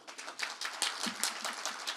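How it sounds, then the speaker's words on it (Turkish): Brief applause at an opening ceremony in Melikgazi, scattered clapping from a crowd, fairly close and steady for a couple of seconds without talk. "alkışlıyorum"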